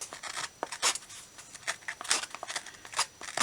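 Scissors snip around the edges of a paper journal cover in quick, light strokes, a series of crisp close cuts with irregular rhythm and brief pauses.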